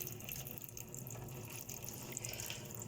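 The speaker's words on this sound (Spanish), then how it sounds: "¿Saben por qué el chorro de agua sale con más fuerza?" Water jets spurting from holes punched in a container during a classroom demonstration, a steady hissing splash and trickle that runs continuously at moderate volume with no talk.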